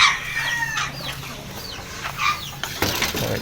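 A hen clucks and cries out while laying an egg, with a quick run of sharp, rising squawks and clucks close by, followed by shuffling movement.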